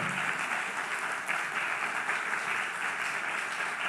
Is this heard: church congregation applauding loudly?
yes